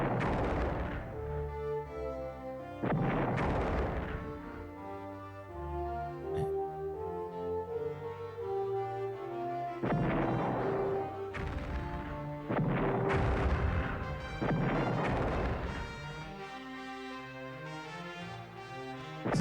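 Weapon fire against a base in the flying video game Stratosphere: Conquest of the Skies, several heavy booming shots spaced a few seconds apart over a droning musical background, no talk.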